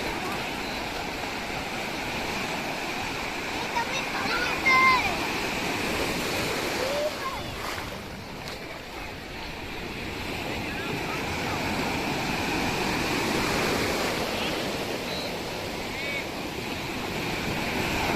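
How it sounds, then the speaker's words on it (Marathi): Ocean waves break on Pirwadi beach in a continuous, windy roar of surf that swells and eases over the stretch, with people talking faintly beneath it. "मोठी लाट आली"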